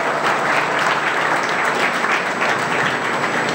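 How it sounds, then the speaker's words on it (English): Audience applause for panelists at an EFI India advisory board meeting, dense sustained clapping from a full room, loud and even throughout with no talking over it. "let's give a huge round of applause to all our panelists"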